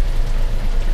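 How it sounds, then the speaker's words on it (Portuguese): Heavy rain pours down steadily, a dense, close hiss of drops drumming on surfaces with no pauses. "Que chuva, hein?"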